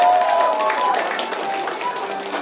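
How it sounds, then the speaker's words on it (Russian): An audience applauds after a tribal fusion and ATS improvisation dance performance at a St. Patrick's Day event, dense steady clapping filling the hall at close range with voices mixed in. "аплодисменты!"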